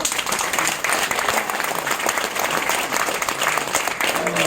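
Crowd applause at a political rally, sustained clapping from many hands that stays loud and continuous for several seconds, with faint crowd noise beneath.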